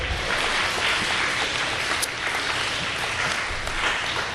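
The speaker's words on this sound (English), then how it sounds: "Give a big round of applause for Miss Mary Colleen Foley." A crowd at an eighth-grade awards ceremony gives a round of applause, a dense, steady clapping wash lasting the full stretch with no talking.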